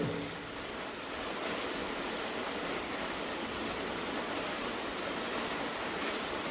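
Floodwater of the Vanimel river surging in a July 2024 flash flood, a dense continuous roar of rushing water, steady and loud throughout with no voices.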